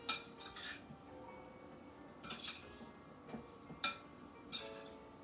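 Bulgur wheat with olive oil stirred in a pan with a metal utensil, giving scattered scraping clinks and taps against the cookware, fairly soft and close.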